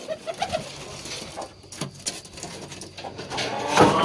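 Pigeons coo in a loft, several soft throaty calls near the start and others scattered throughout, close by, with a brief scrape and rustle near the end, no talk.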